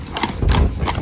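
Steady clip-clop of an Irish Draft mare's hooves on a town road while driving single in traffic, a close, moderately loud rhythmic run of hoofbeats with a faint background rumble.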